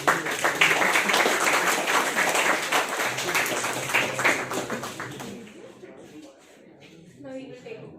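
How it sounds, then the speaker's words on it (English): At a college orientation, an audience claps for winners, a thick burst of applause that thins and fades out toward the end, with some voices and shuffling beneath it. "let's have a round of applause for our winners as well"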